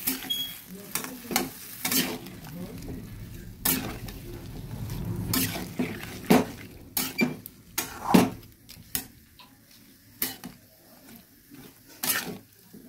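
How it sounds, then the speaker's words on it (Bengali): A pumpkin and drumstick curry with spices is stirred and fried in a pan, with soft sizzling under repeated sharp scrapes and knocks of the spoon against the pot, irregular and close. "এবার ভালো করে নেড়ে মিশিয়ে দিচ্ছি।"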